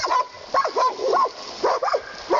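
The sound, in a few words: dogs fighting a coyote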